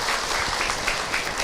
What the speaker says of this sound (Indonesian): Tepuk tangan buat Mbak yang bertanya